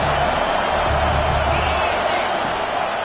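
A stadium crowd at a college football game between App State and UGA roars steadily behind the defense on a big third down, a broad, continuous wash of cheering at a distance.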